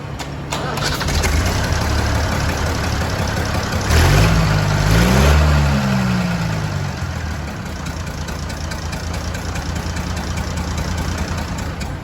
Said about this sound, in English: we've got the engine running now